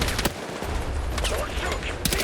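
Rapid gunfire in the Battlefield 6 campaign during fighting in an Egyptian souk, a dense, loud crackle of shots over game noise with brief voice chatter mixed in.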